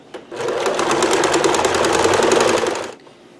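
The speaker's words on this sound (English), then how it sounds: "we're just going to sew this seam. And I am going to do a zigzag just because I want it to stay put" A sewing machine runs a zigzag seam on a workshirt apron, making a close, loud, rapid mechanical chatter that starts abruptly, runs steadily for about two and a half seconds, then stops.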